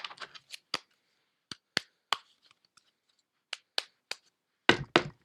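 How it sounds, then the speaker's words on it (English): Oracle cards being shuffled by hand, heard as a series of short, sharp riffles and taps with quiet gaps between, close and alone with no talking. "Testing these cards up really good. Getting them nice and shuffled."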